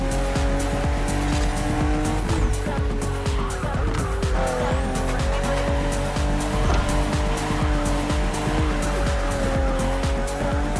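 A BMW M CSL with a special 50th-anniversary emblem drives in The Crew Motorfest on Xbox Series X, its engine droning steadily and shifting pitch as it accelerates, with tires squealing and skidding throughout, loud and continuous.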